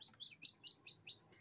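Newly hatched chicks chirp from an incubator in a quick run of high, thin peeps, about five a second, close but fairly soft against a quiet background.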